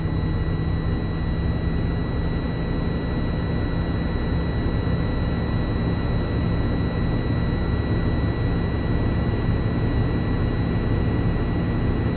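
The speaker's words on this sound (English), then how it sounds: "I'm going to rev the engine again and wait for the cutout" A truck engine idles and revs during a Class A air brake cutout check, producing a steady, loud broadband roar and hiss with a faint constant whine, heard alone throughout.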